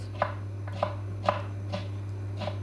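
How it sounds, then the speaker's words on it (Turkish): A knife chops a whole onion into small pieces on a board, five crisp, evenly spaced cuts over a steady low hum, close and clear with no talking. "Sarmayı yapmak için bir baş soğanı küçük küçük doğruyoruz."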